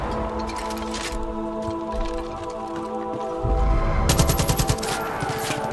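Enemy gunfire in the Far Cry 5 video game, bursts of automatic shots rattling in rapid succession over steady game sound, growing denser and louder partway through.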